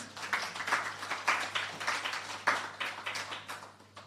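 Audience clapping at a government STEM scholarship programme launch in Jamaica, a steady round of applause from a room of people lasting several seconds at moderate level, no talk over it.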